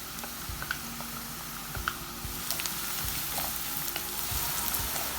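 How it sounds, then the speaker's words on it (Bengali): Onion and garlic browning in a pan, a steady broad sizzle with scattered crackles and a few louder pops of stirring, close and continuous throughout. "পেঁয়াজ আর রসুনটি ভালোভাবে ব্রাউন করে ভেজে নিতে হবে।"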